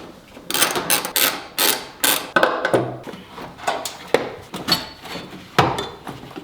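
A bolt is worked loose while the headers come off a Nissan S13 180SX engine, giving a rapid, irregular series of sharp metallic knocks and clinks close by, with no talking.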